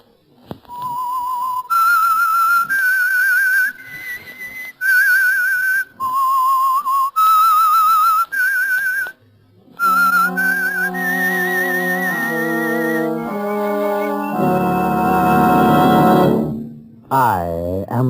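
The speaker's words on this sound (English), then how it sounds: "That whistle is your signal for the Signal Oil program" A whistled radio show theme for The Whistler, the Signal Oil program: a loud, clear melody of rising and falling whistled notes played alone, then joined by sustained orchestral chords that swell toward the end.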